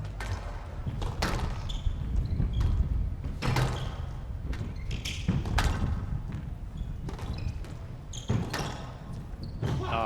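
Repeated squash ball strikes and thuds off walls during a professional PSA World Tour Finals match, a steady run of sharp hits and echoing bounces in an indoor court with faint crowd ambience.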